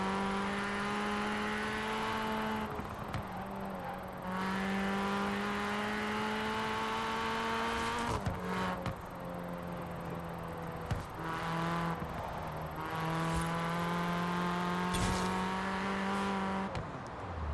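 A car engine in a racing video game revs and accelerates through repeated gear changes, its steady rising tone cutting off and climbing again at each shift, loud and close with no talk.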